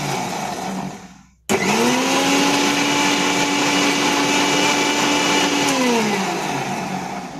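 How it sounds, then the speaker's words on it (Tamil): An electric mixer grinder starts abruptly and runs with a loud, steady, high whine and harsh grinding close by, its pitch easing slightly near the end, with no speech. "இப்போ வந்து நம்ம மிக்சியில் நல்லா அரைச்சிக்கலாம்."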